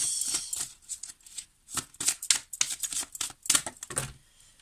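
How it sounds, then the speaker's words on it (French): Tarot cards shuffled and drawn at a table, a run of quick papery riffles and slaps in short bursts with brief pauses, close and fairly quiet, no talking. "Allez, on va prendre 3 cartes, s'il vous plaît."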